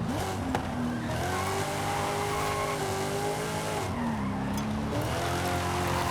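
A heavily modified Dodge Charger with a replaced engine in Forza Horizon 5, engine revving loudly with rising and falling pitch sweeps as it shifts, tires squealing and skidding throughout.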